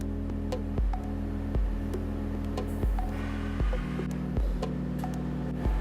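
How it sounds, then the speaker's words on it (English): A machine rolls the edge of a carbon filter flange, a steady loud mechanical hum with periodic clunks roughly every second, close and continuous, with no voices. "This machine takes the edge from a flange and rolls it over so we don't get any sharp edges"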